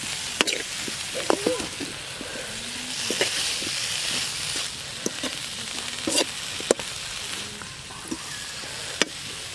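Pork for an Assamese arum spinach curry sizzles in a pan in a village kitchen, with a steady frying hiss broken by irregular clicks and scrapes of stirring against the pan.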